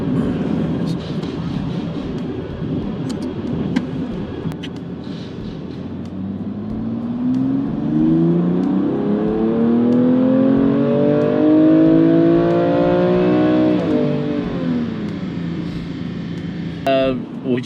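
Stock BMW M2 Competition engine on a dyno run, climbing steadily in pitch through a long, loud, close pull before backing off, with people talking over it at times.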